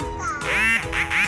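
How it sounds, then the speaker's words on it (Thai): A Silkie chicken calls nearby in a few loud, nasal, honking bursts. "เรียกเหมือนไก่บ้านเรา"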